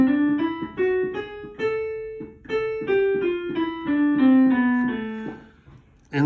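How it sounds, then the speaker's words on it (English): A melodic minor scale played on a pitched instrument, climbing note by note and then descending, with clear sustained tones in an even stepwise rhythm, close and alone. "So it sounds like this going up and down."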